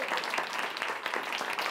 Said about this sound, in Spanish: dadles un fuerte aplauso